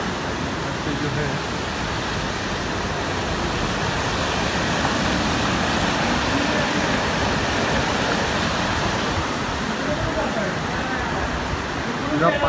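Rushing water flowing beside a temple at Pimpode Bk, Satara, a loud, continuous broadband roar like a stream or small waterfall, steady and close throughout.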